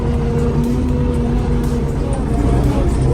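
A YuMZ-6 tractor drives toward the field, its engine a loud, steady, close-up rumble with a droning hum that never lets up.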